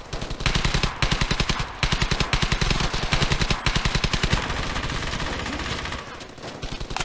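Rapid bursts of automatic gunfire from a World War II shooter game, Hell's Highway, crackling in dense, rhythmic volleys that run nearly unbroken for several seconds before thinning out near the end.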